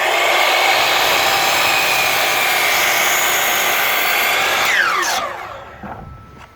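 A Hercules 12-inch sliding miter saw fitted with a 44-tooth Diablo blade whines loudly and steadily through a cut, then the pitch falls as the motor winds down near the end.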